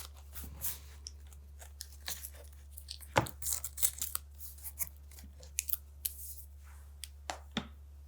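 Masking tape is torn in short, crisp rips and crackles while framing a sketchbook page, scattered bursts at close range and fairly quiet over a low steady hum, with no talk.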